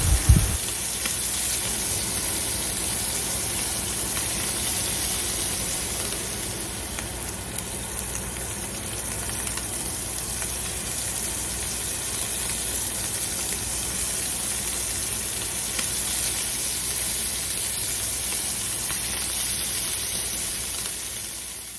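Scallops searing in garlic butter in a hot pan give a steady, even sizzle that runs without a break from start to finish, with a brief louder crackle right at the opening and no voices.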